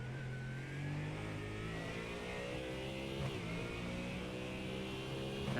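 A Ford Mustang race car on the Charlotte Roval shifts back up through its gears, its engine note a steady, fairly faint drone heard at a distance with a small change in pitch near the middle.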